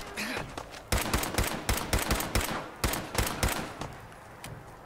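Rapid bursts of gunshots in the video game Fallout 4, a string of sharp close cracks in quick irregular succession, fading toward the end.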